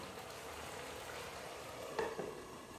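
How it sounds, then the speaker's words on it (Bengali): Matar paneer simmers covered on medium flame, giving a faint, steady low sizzle throughout, with a couple of soft clinks near the end. "ঢাকনা দিয়ে মিডিয়াম ফ্লেমে 5 মিনিটের জন্য রান্না করে নেব"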